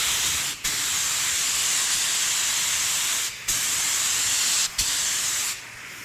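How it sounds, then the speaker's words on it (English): A continuous hissing spray of a paint gun spraying black paint onto a skateboard, broken by three brief pauses where the trigger releases, close and steady throughout. "I'm just going to go ahead and start spraying."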